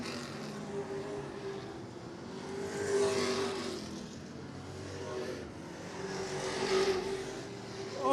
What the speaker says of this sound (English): Shepherd right on the back bumper of Halliburton now.